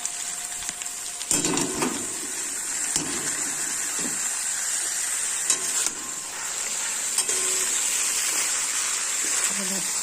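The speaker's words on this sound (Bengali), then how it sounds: "এবার বাঁধাকপিটা ঢেলে দিলাম।" Steady sizzling of shredded cabbage frying in a hot pan, with occasional stirring scrapes and a voice speaking over it.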